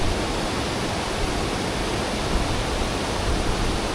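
Falls in the Cape York region pour continuously, a dense, unbroken roar of water that stays level and close from start to finish.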